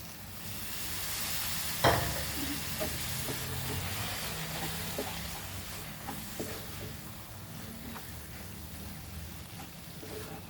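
Chickpeas (chana) fry and sizzle in a hot pan as they are stirred, a steady crackling hiss with a sharp clack near the start and soft scraping throughout.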